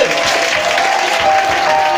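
A congregation claps loudly at a New Year's Eve church service, a dense, continuous roar of hands with a faint voice buried beneath.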